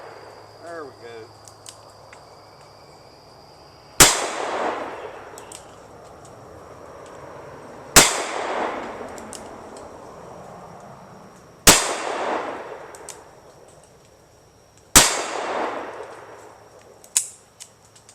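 A Ruger SP101 .357 Magnum revolver fires in single action at steel targets. The loud, sharp reports come a few seconds apart, each followed by a ringing decay, and a much fainter hit sounds near the end.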